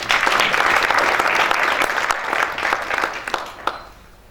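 An audience applauding young essay writers at a publication launch for an anti-racism competition, a loud, full round of many hands clapping that holds steady and then thins out as it fades.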